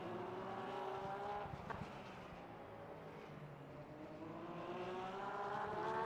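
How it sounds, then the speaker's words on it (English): Hypercars in the Le Mans Ultimate racing game roar past at Paul Ricard, steady engine drones sweeping in pitch and swelling toward the end, with no talk over them. "I am hearing Really hypercars in the background."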